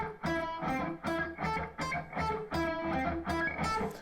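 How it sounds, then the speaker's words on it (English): A distorted electric guitar plays a repeating arpeggio, each picked note crunchy and sustained, in a steady rhythmic pattern close to the listener. "So if I play this arpeggio with this technique, then it's gonna sound like this."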